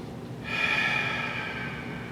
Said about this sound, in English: Listen to your breath. Inhale. Exhale.